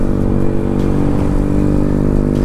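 A motorcycle fitted with its stock exhaust accelerates from a start, giving a steady, close, humming engine drone with no voices.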